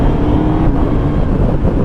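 A Suzuki GSX-S1000GX four-cylinder motorcycle on the move, its engine a steady droning hum under loud wind rush, with no speech.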